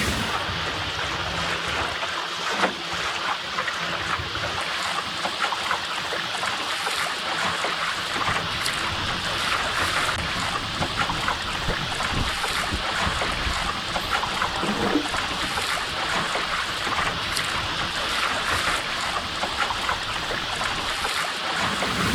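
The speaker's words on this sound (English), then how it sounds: "no reef going on really nicely, doing about 4 or 5 knots through the water" A sailing dinghy moves steadily through the water under sail at about 4 or 5 knots, with continuous water rush, splashing and wind noise close by and no talking.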